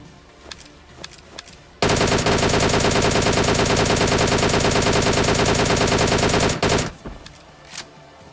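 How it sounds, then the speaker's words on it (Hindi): Automatic gunfire in the mobile battle-royale game PUBG Mobile, fired at players on a ridge: a loud, sustained burst of rapid shots lasting about five seconds, with quieter scattered shots before and after. "मैं उन पर कुछ फायर देता हूँ"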